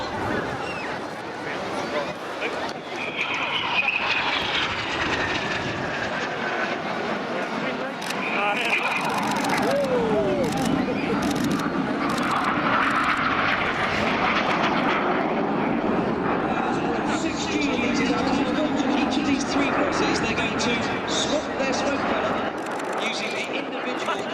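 Red Arrows jets flying a crossing carousel display at an airshow, a loud roaring jet wash that builds and sweeps overhead with shifting pitch, continuous for the whole stretch, with a commentator talking over it.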